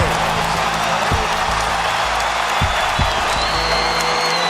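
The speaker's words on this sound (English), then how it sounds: "Listen to this crowd as they just now figure out that Calvin Murphy's record has finally fallen." Basketball arena crowd roaring and cheering at a Houston Rockets game as James Harden breaks Calvin Murphy's franchise single-game scoring record; a dense, steady wall of crowd noise with whoops, under a commentator's voice.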